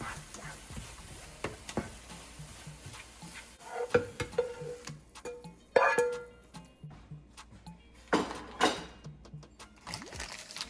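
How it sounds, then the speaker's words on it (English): Eggs scrambling in a pan, a faint sizzle under repeated scraping and stirring strokes, with a few sharper clanks of utensil against pan, no talking. "I finished scrambling my eggs"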